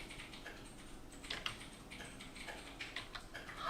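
Quiet, steady tapping on a computer keyboard somewhat distant from the microphone, with irregular bursts of keystrokes running throughout in a calm indoor room.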